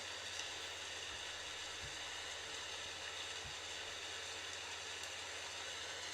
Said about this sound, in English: While the rain is falling down